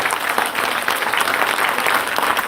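A seminar audience breaks into loud, dense applause, many hands clapping together close by in a continuous burst that holds steady for a couple of seconds.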